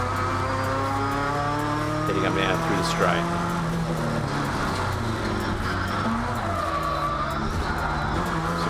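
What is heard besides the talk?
race cars at Morgan Park Raceway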